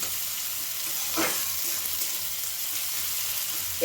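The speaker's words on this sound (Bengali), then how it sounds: "ভালো করে একটু নাড়াচাড়া করে নেব।" Chopped onions hiss in hot oil in a pan for a dal with spinach, stirred once or twice with a soft scrape, the sizzle steady and close with no speech.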